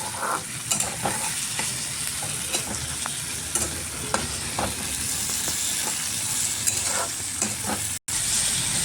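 Tomatoes sizzle and fry in a pan while being stirred, a steady loud hiss with scraping stirs and small pops scattered throughout, close up, no talking.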